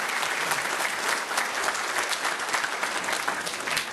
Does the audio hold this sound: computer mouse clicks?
no